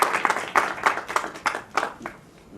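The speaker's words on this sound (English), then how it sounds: "Please give a round of applause to Dr." Audience applause at the IFFI 2019 film festival for a guest director, a few bursts of clapping that rise and fade in waves over a couple of seconds.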